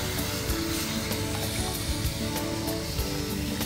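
Steady hiss and sizzle as water hits a hot pan of labra, a Bengali mixed-vegetable dish, a continuous frying crackle heard up close without pause.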